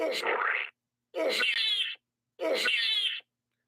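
Three drawn-out meows in a row, evenly spaced with short silences between, close and clear; they may be a person imitating a cat.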